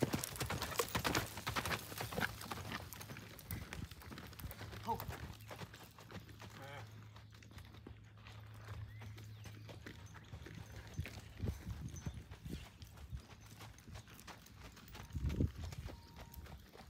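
Horses' hooves clip-clop at a steady walking pace during a cowboy horseback riding outing in Bandera, Texas, moderately close and continuous, with people talking over the plodding steps.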